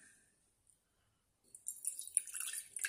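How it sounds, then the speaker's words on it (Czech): Two liquids poured together and mixed during a chemistry lesson: after a quiet start, a burst of bright splashing, dripping and trickling sounds runs on steadily for about a second and a half, close and fairly faint, with no talking. "Tady máme nějaké dvě kapaliny. Tak smícháme."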